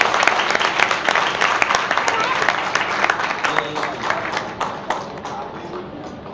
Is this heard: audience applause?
yes